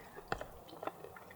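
Close, quiet crunching of crunchy camp biscuits being chewed, a few crisp bites and chews spaced irregularly over a faint background.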